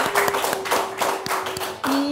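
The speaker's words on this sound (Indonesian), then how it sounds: "tepuk tangan teman-teman untuk Hasbi" Classmates in a classroom clap for a student, a short burst of scattered handclaps that is close and fairly lively, with a sustained tone running underneath.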